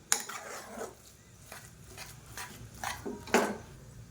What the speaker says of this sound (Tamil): இப்போ அதை நல்லா மசிச்சு விட்டுக்கலாம்.